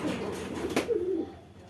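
A soft, low coo from a pigeon sounds once over a faint hiss of background noise.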